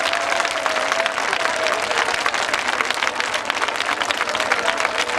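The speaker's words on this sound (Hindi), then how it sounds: "और जोर से ताली बजाएं।" A church congregation at a Hindi Christian service claps loudly and steadily, a dense, continuous wash of applause with a voice faintly present over it.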